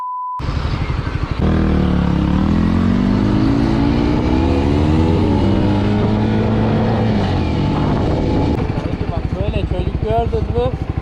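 A car engine revving and accelerating on a road, its pitch climbing in long sweeps and then settling, loud and close with a voice speaking over it.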